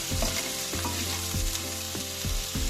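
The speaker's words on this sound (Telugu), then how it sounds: "ఉప్పు ఇప్పుడు ఫ్రై చేసుకున్నామండి ఉల్లిపాయలన్నీ" Sliced onions fry with salt in a hot pan, a steady sizzle broken by rhythmic scraping strokes of a spoon stirring, close and loud with no voices.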